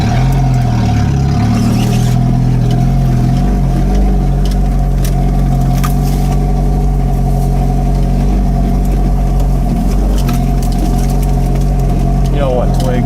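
An old Jeep drives along dirt trails, its engine holding a steady, loud, close rumble with a low drone throughout.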